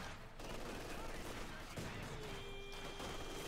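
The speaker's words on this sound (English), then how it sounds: "they're getting blasted with light machine gun, a machine gun fire there" Light machine gun fire in the WWII strategy game Company of Heroes 2, faint rattling bursts under a dense, steady battle din.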